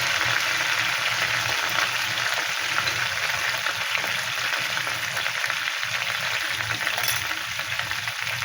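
Bay leaves, dried red chillies and whole garam masala spices sizzle steadily in hot oil for a Bengali chicken kosha, a close, continuous crackling fry with no talking.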